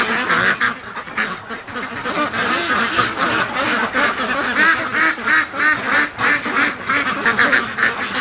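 A crowd of ducklings in a barn, being raised as free-range ducks, quacks and peeps continuously, loud and near, with overlapping calls forming a busy, restless chorus.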